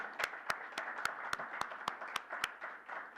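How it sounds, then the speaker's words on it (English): Faint, steady clapping at a board of education meeting, a handful of people striking hands in a regular quick rhythm for a few seconds in a quiet room. "let's give Kevin a round of applause"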